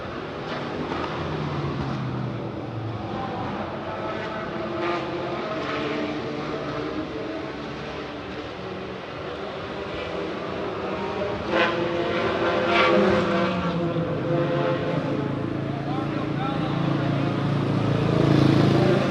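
A vintage Ford Mustang race car drives past at the Rolex Motorsports Reunion at Monterey Car Week 2024, giving a steady, loud broadband engine roar that swells toward the end.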